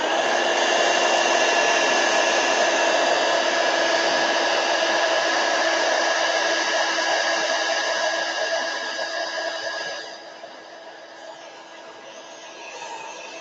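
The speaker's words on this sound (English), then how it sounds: "I'm going to hit it with a heat gun real quick" A heat gun blows continuously over watercolor paint on embossed watercolor paper, a loud, steady whooshing roar close by that eases to a lower level near the end.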